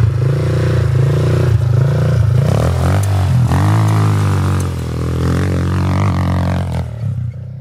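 A quad bike with a stock exhaust revs hard under heavy throttle, a loud continuous rising and falling engine roar with clattery mechanical texture that fades slightly near the end.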